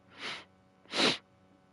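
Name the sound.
sneeze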